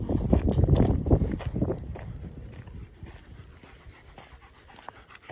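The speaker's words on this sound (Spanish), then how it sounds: "Qué gusto andar con perros así, del calibre de Arturo" A German Shepherd panting hard on a riverside outing, close and rhythmic with a few footstep thuds, strongest at first and then fading to quieter breathing.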